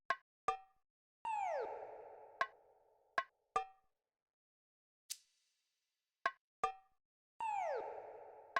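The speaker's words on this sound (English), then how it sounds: "Which I layered and added my own perc loop that sounds like this." Self-made layered percussion loop for a beat in FL Studio: sharp clicky hits and knocks spaced unevenly, with two longer swelling metallic sweeps, dry and upfront with no voices.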